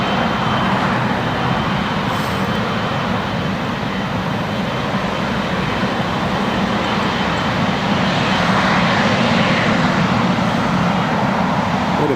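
An Italian Air Force C-27J military transport landing at Newcastle International Airport, a loud, continuous propeller-engine roar close by that stays dense and steady with no voices.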